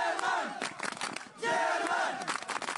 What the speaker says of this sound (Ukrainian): Мігранти вигукують «Німеччина», бо не планують затримуватись у Польщі.